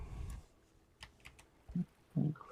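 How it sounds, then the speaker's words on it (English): Quiet typing on a computer keyboard: a few scattered, soft key clicks, then two louder taps near the end. Recorded close up with no voices. "I'll type that out for you."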